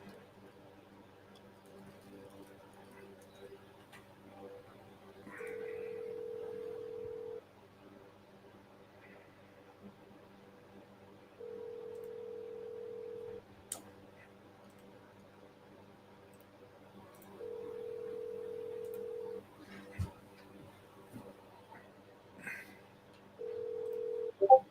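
A phone call to a seller in progress: repeated ringback tones in evenly spaced bursts of about two seconds, separated by quiet gaps with faint clicks, then a brief rustle at the end.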